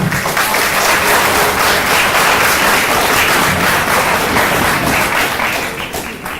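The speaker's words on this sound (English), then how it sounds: "thank you for the applause also" Audience at the IIT (BHU) Varanasi E-Summit closing session applauding, loud, close, continuous clapping that holds steady for about five seconds before fading out.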